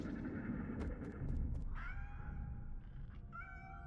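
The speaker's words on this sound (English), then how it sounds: "Are those cats?" Cats meowing in a game, a couple of drawn-out wavering meows rising after some brief clicks, moderately faint over a steady low ambient rumble.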